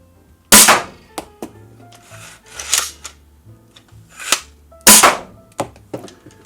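A Captain Slug's Inline Rivalburn blaster fires in sharp, loud close pops, with mechanical clacks and rattles of priming and loading between the shots.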